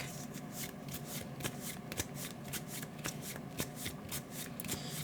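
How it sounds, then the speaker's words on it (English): A deck of Marvel Champions cards is shuffled by hand in a run of quick riffling bursts with sharp snaps, close and clear, with no talking. "then we shuffle this deck"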